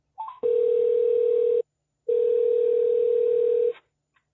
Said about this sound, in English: And I will test the phone call.